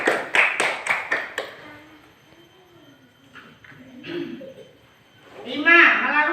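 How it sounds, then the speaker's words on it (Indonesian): Pupils in an Indonesian elementary school classroom clap in a quick rhythmic burst of about six sharp beats, then fall quiet as voices speak and the sound gradually picks up toward the end. "Kasih tepuk tangan dunia"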